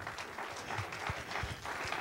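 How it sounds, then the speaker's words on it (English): A church congregation gives a round of applause, a soft, steady wash of many hands clapping at a distance, fairly quiet throughout. "Let's give them a big round of applause,"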